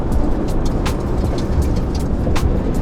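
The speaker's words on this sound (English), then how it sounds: "Oh, there's a car coming." A car approaches on a foggy road in Denmark, a loud, steady rumbling engine and tire noise close by, with no voices.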